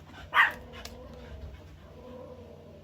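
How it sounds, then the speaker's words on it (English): A dog gives a single sharp bark close by, followed by quieter low background sound. "My dog will not shut up now"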